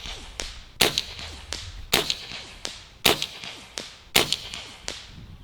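A budget .22 caliber airgun fires 21.9 grain pellets, five sharp cracks each followed by a quick smack, spaced roughly a second apart, crisp and close.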